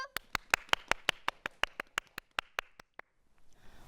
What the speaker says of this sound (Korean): 우리 새내기들을 위해 좋은 말씀해주신 최정민 실무국장님께 다시 한번 박수 드리죠